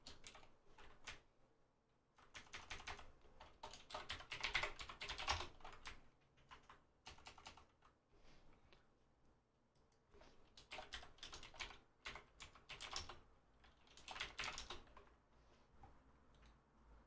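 Typing on a computer keyboard: quiet, close clatter of keystrokes in irregular bursts separated by short pauses, alone without talk.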